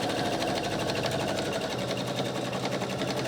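Close and loud, a sewing machine runs steadily through the wool wadding layers of a washable sanitary pad, its dense rapid stitching holding an even pace throughout.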